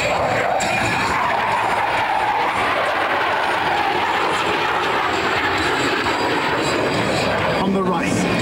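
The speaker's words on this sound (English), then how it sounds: "On the right, at 380 miles per hour, the Blue Angel Echelon Parade." Navy Blue Angels jets roaring past at about 380 mph at the 2008 Quad City Airshow in an echelon parade formation, a loud, sustained engine rush with an announcer talking over it.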